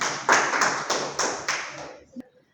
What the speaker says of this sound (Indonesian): Kepada saudara kita kasih aplaus.